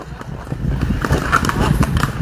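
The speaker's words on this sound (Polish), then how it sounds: "O, konia ponosi." A horse-drawn carriage in Alexandria, Egypt, with steady hoof clip-clops on the street, close and fairly loud, while people talk nearby.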